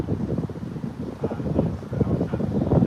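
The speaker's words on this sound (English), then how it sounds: "Hope you guys can hear me over the wind, though." Outdoor wind buffeting the microphone in uneven low rumbling gusts, loud and close, with no voice over it.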